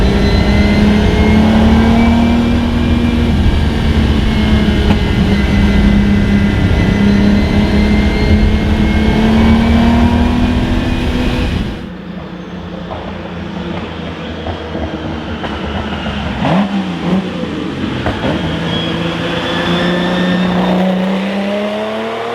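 A 1970 Lamborghini Miura P400 S engine runs loud and close with a sustained rising and falling tone, then drops to a quieter, rougher idle with brief blips of revving.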